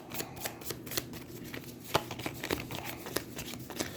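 A deck of Aeons End board game cards being shuffled by hand, a close run of quick riffling snaps and papery flicks with no talk.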